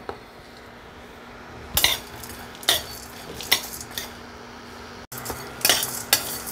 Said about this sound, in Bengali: গোলমরিচ, গোটা ধনে, জিরে সব একসাথে আমি শুকনো খোলায় ভেজে নেব।